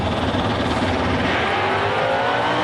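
Factory Stock drag race cars roaring down the strip at an Indy Factory Stock Showdown, a loud, sustained wall of engine noise rising slightly as they accelerate.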